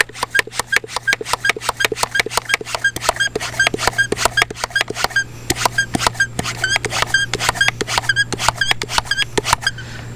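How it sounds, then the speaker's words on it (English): An IK 1.5 foam sprayer being hand-pumped to build pressure, giving a steady run of quick rhythmic pumping strokes with clicks and squeaks, close and continuous over a low hum. "So let's go ahead and pressure it back up."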